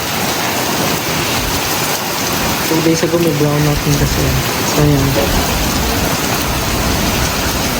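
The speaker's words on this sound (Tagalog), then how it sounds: "Ang lakas ng ulan." Heavy rain pours steadily and loudly throughout, a dense hiss with a voice talking over it midway.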